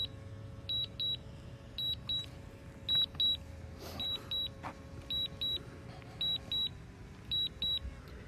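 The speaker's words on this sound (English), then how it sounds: "that beeping is so annoying" Paired high-pitched electronic warning beeps from a DJI Mavic Mini drone controller repeat in a steady pattern over a faint motor hum, moderately loud and regular throughout.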